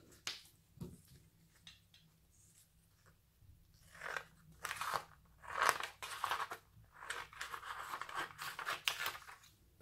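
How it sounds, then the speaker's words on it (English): Scissors cut a square of vellum, giving a run of crisp snipping and crunching strokes, sparse at first and then a quick close sequence of cuts, with no talking. "Cut a square of vellum out."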